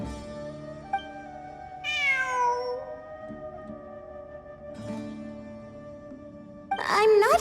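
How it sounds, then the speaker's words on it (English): A cat meows in the Genshin Impact video game, several drawn-out, wavering calls sounding at moments over a steady musical background, with a louder burst of sound near the end. "It really is a cat."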